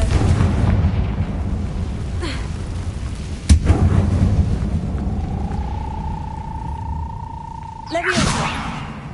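A Confringo spell explosion in a Hogwarts video game, a loud rumbling burst over a dense, rain-like roar, followed by a rising tonal hum and a second burst near the end.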